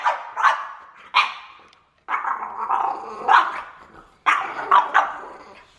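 A Dutch-breed dog barks and growls close by in several loud bursts separated by short pauses, alone without talk.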